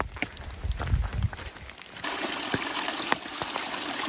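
Mountain stream along the Georgia Appalachian Trail in February, flowing water gushing and trickling steadily nearby, with a louder, brighter rush after the first couple of seconds and a few handling knocks.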